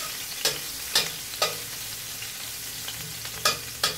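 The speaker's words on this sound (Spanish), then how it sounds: "sofreír nuestra cebollita, que está cortada en medias lunas" Half-moon slices of onion fry in a hot pan with a continuous sizzle, punctuated by regular, crisp scrapes of a spoon stirring them every half second or so; no voices.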